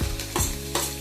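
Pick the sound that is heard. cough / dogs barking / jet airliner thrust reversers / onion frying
onion frying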